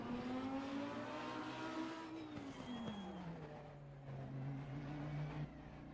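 A race car engine in the Assetto Corsa Competizione racing game slows as it heads into the pits, its steady tone falling and then holding at a lower, calmer idle-like drone.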